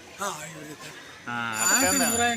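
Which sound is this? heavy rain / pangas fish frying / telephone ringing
telephone ringing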